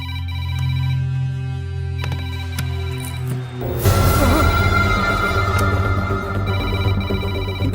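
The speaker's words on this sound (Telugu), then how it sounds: "రింగ్ అవుతుంది కానీ ఎవరు ఎత్తట్లేదురా" A telephone rings repeatedly in a steady electronic pattern during a film comedy scene, then a loud crash-like burst of music and noise takes over at the end, with no talk.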